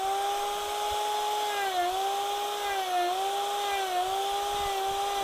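Chainsaw fitted with a power gouge carving wood, a steady high whining drone with slight dips in pitch as the cutter bites, loud and close with no talking.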